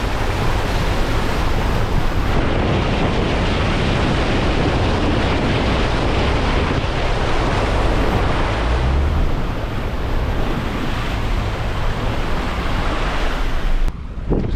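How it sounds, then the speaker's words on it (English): Floodwater gushes out of a field in Missouri after heavy rain and hail, a loud, continuous roaring rush with steady wind buffeting the microphone throughout and no voices. "Raging river coming out of this field, just a makeshift river."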